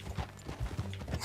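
Horse hooves clip-clop in an uneven trotting rhythm in the Red Dead Redemption II video game, close and moderately loud, with low thuds and rustle and no talk over the steps.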